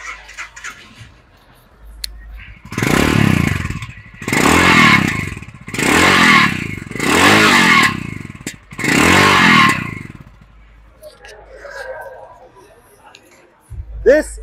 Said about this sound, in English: let's give you a quick look at what the exhaust sound is like.